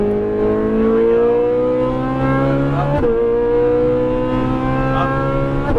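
A Ferrari 458 Italia engine screams at high revs while accelerating on a race track, loud and close, with rising whining tones, a sharp shift near the middle, then climbing again.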